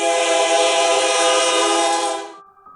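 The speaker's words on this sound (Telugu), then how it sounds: "ట్రైన్ హారన్ కొట్టింది" A train horn blows as the train sets off from a station, a loud, steady, rich tone held for over two seconds before cutting off abruptly, leaving a faint lingering ring.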